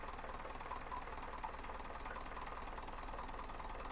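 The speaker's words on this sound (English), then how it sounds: "Those little diesels idling, I like the way they sound." Small diesel engine of a Chevy box truck idling on a cold start, a steady low rumble with faint knocking that runs evenly throughout, fairly quiet, with no voices.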